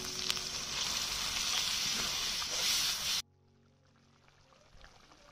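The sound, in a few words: pouring a little water into a frying potato curry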